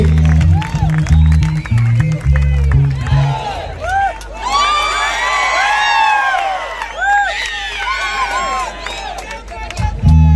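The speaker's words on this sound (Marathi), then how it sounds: "कोकणातल्या टाळ्या वाजल्या पाहिजे" A big crowd at a Dahi Handi festival in Konkan, loud and continuous with cheering, whoops and children's shouts rising and falling, mixed with applause and an amplified voice over music.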